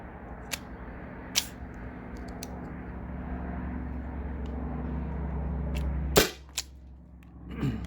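A Byrna SD launcher fires Byrna Kinetic balls across a chronograph: a few sharp, separate pops spaced irregularly over a steady low background hum, with a louder close shot near the end.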